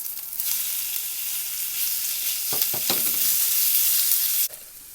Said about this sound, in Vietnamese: Mình cho một tí xíu dầu vô trong chảo. Cho đầu hành vô. Đầu hành cắt nhỏ nè.